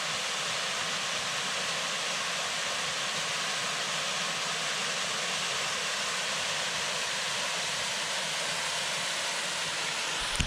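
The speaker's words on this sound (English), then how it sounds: "Beautiful little waterfall." A small waterfall on a solo canoe trip near Rathbun Lake gives a steady, unbroken rush of falling water, fairly close and even throughout, with no voices.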